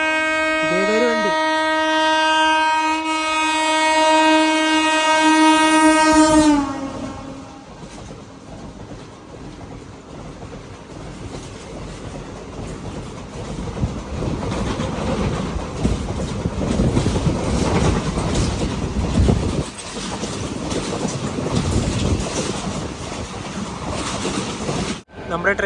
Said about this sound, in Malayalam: നമ്മുടെ ട്രെയിനിൻ്റെ ലോക്കോമോട്ടീവാണിത്.